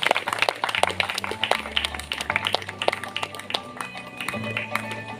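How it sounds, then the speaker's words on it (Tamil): An audience at a cultural evening claps for a children's dance, a steady patter of many hands with scattered sharper claps, alongside background murmur and a low hum. "கைத்தட்டுங்க. பிள்ளைகள் அருமையாக ஆடினாங்க."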